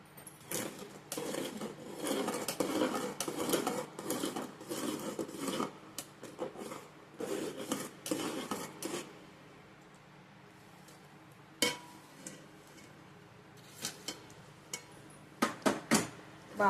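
Rusk powder being stirred into melted jaggery in a pan: a spoon scrapes and clinks against the pan in busy bursts, then a quieter stretch broken by a few sharp isolated knocks.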